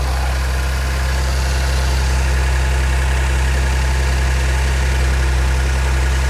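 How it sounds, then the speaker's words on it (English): A Ford Flex engine idles with its accessory belt, pulleys, tensioner and AC compressor turning, a loud steady low hum and drone heard up close with no voices. "The pulley is rotating, the AC compressor is rotating, and my belt tension right here is rotating."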